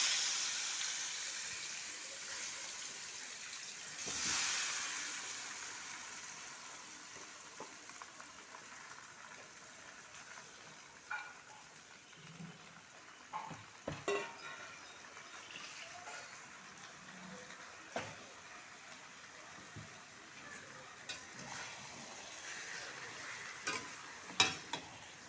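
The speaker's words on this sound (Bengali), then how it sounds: "মেখে রাখা চিকেনটা এবার কড়াইয়ের মধ্যে দিয়ে দেবো।" Marinated chicken hitting a hot wok, with a steady sizzle of frying and scraping, stirring clatters as it is turned; fairly close and even in level, no voices over it.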